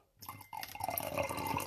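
Tea pours into a cup after a brief silence: a steady close trickle of liquid with a rising splashy fill and small drips, alone without talk.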